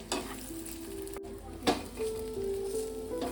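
Dhoka lentil cakes simmer and get stirred in moong dal, a soft continuous sizzle with a few scraping spoon strokes and light pan clinks, close and fairly quiet.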